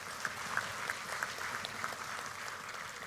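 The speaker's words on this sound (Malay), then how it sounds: "MCA, tepukan untuk mereka" Sustained applause from a large crowd at a political party general assembly, a steady, even roar of clapping heard from a distance with a few sharper claps standing out.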